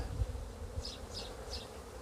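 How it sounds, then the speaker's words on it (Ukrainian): Bees buzz softly around a hive, a low steady drone with a few brief higher buzzes passing close. "Але бджоли всі молоді. Іде вихід бджоли."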